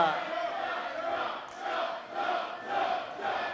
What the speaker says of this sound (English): The crowd chanting jump.